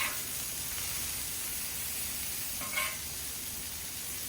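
Smash burgers fry on a griddle with a steady, close sizzle and hiss. A brief scrape or spatter rises near the end, then the sizzle settles back.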